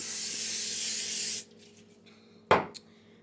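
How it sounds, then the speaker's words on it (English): Oil sprayed onto chicken wings in an air fryer basket: one continuous hissing burst for about a second and a half, then quiet, followed by a sharp short clatter and a smaller knock. "Okay, I'm going to spray."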